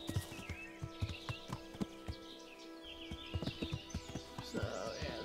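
Horse hooves clip-clop in an uneven, steady rhythm across an overgrown trail in the game Kingdom Come Deliverance, close and fairly loud, with a brief snort or whinny near the end.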